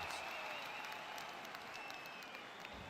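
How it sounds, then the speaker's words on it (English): A tournament crowd in a video game breaking into applause, a dense, even wash of clapping that holds steady for a few seconds at a moderate distance, with a faint voice beneath it. "Tournament crowds."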